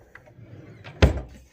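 A desk drawer in a student dormitory room slides open with a soft scrape, followed by a single sharp knock as it stops.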